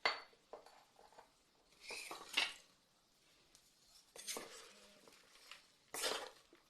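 Grated carrot, cabbage and spring onion tossed together in a bowl, with soft intermittent clinks and scrapes of a utensil, quiet and close with pauses between strokes.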